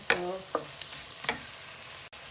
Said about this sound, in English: We need to fry the onion till brown.